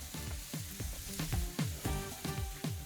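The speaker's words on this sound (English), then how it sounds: "Grill until the chops are sizzling and browned on the bottom." Veal chops sizzle steadily on a hot grill grate, a close, crackling frying hiss with rhythmic pops and low thumps throughout.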